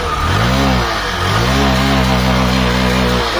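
A Hero Passion Pro BS6 motorcycle engine runs loud and close right after a kick start, revving up and falling back in a few rising and dipping pulls with no talking.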